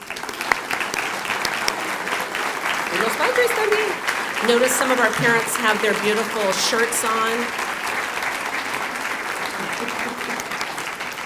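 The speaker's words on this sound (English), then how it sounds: "Will our proud parents, community leaders, and district partners please stand up for a round of applause?" Audience applause for parents, community leaders and district partners at a school district State of the District event, sustained dense clapping throughout with someone speaking over it.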